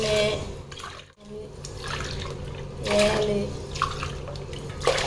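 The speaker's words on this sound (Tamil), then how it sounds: "நான் எப்போ வைக்கிற மாதிரி 8 கிளாஸ் தண்ணி ஊற்றிடுறேன்" Water poured by the glass into a cooking pot for biryani rice, a splashing, gurgling flow in several pours with short breaks, under a voice talking.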